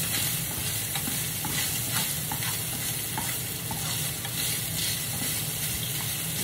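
Chopped onions sautéing in a pan for a homemade pizza topping, alongside hotdog and chili, give a loud, continuous sizzle with light stirring scrapes close by.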